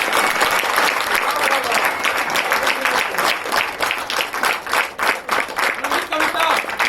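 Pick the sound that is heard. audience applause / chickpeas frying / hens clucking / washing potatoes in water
audience applause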